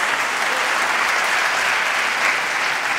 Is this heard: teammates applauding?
yes